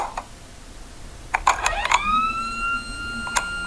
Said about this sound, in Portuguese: A sirene anunciava o término da visita.